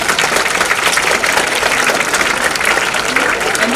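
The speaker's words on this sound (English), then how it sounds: "May I have a huge round of applause for them" Sustained applause from a large crowd, dense clapping filling the room at a steady loud level throughout.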